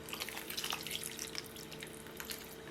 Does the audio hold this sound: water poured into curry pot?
yes